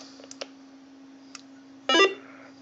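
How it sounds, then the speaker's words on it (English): Power-up beeps from a Wouxun X1M radio: a few faint ticks, then a single short, loud multi-tone chime near the end, over a steady low hum and quiet hiss. "Pretty cool power up noise."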